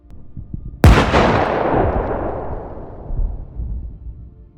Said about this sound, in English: The continuous bombing targets the Russian positions, creating relentless pressure.